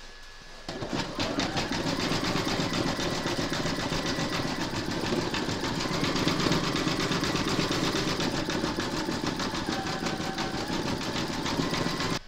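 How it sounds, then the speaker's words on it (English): An embroidery machine zigzag stitching around the raw edges of a quilted turkey appliqué placemat, a steady rapid mechanical whirring and clatter running unbroken and fairly close for the whole stretch. "Pop your hoop into your machine, and then you're going to stitch round number 5"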